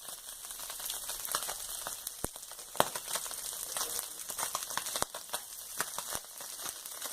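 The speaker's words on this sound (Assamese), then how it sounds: "এটা পাৰ ভজা হৈ গৈছে, এতিয়া ইটোপাৰ ভাজিম।" Small fish frying in hot oil, a soft continuous sizzle dotted with sharp crackles and pops, fairly quiet and steady with no talking.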